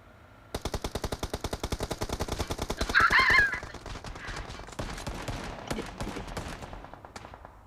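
Rapid automatic gunfire in the PUBG Mobile battle royale game, a long steady burst of evenly spaced shots followed by scattered single cracks and shorter bursts, loud and close.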